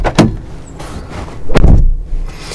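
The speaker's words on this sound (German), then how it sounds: "Die Tür, die macht so ein Nachwebgeräusch." A VW ID. Buzz door is shut, with a couple of sharp thumps close by and a brief mechanical whir between them.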